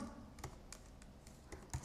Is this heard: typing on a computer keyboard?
yes